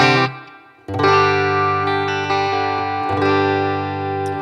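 Sustained electric guitar chords through a small amp with a wet, springy spring-reverb tail, played steadily and loud, with a brief drop before the strum resumes.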